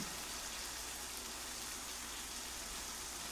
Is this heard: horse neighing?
no